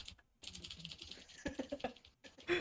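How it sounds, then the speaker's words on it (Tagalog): Computer keyboard typing in rapid irregular bursts of close key clicks, with short pauses between runs and a louder clatter at the end. "Ingay ng keyboard."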